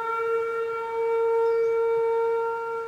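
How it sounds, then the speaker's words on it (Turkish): Steady wailing sirens sound after an earthquake in a bus-driving video game set during a tsunami escape, a sustained loud tone held alone throughout over a low rumbling background. "Oha sirenler çaldı."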